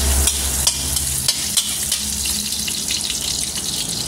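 Pork and onion stir-fried in a pan for a cabbage dish, with loud, close scraping and tossing strokes over a continuous bright sizzle.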